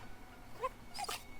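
A small dog in the film Parasite gives two brief, high whimpers, faint over a low room hum, with a soft breathy rustle right after.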